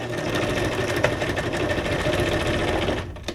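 A sewing machine runs a zigzag stitch across a junk journal page, a close, steady rapid mechanical whir that hums without a break before stopping near the end.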